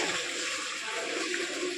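Water running steadily into a container during volunteer service work at a dera in a Punjab village, a continuous hissing pour heard close and unbroken, with no talk.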